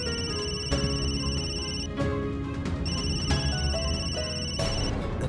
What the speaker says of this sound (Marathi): दत्ता भाऊ, फोन का उचलला नाही?